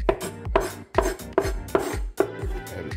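Knife chopping conch and vegetables for a Miami-style conch salad, sharp repeated thuds on a cutting board in a quick, fairly even rhythm, about seven close, loud strikes with no talking.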